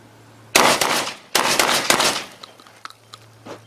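JTS shotgun firing heavy shot lead 1 1/8 oz shells at a target, two loud close blasts in quick succession with ringing decay, followed by faint mechanical clicks and rattles.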